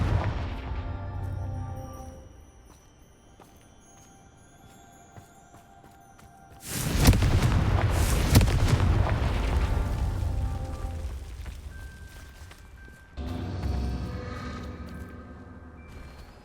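Confringo fire explosion spell cast in the video game Hogwarts Legacy, a loud roaring burst that sustains for several seconds, followed by a second, smaller blast over a faint musical backdrop.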